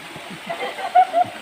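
River water runs over stones in a swimming spot on a Konkan river, a steady close rush of flowing water with small splashes and gurgles and faint voices in the background.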